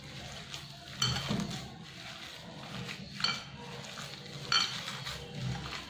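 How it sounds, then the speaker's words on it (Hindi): A poha pakora mixture is squished and mixed by hand in a bowl, soft wet squelching in a few distinct pulses against a quiet background, close and fairly faint, with no talk. "और इसको हम अच्छे से मिक्स कर लेंगे हाथों से"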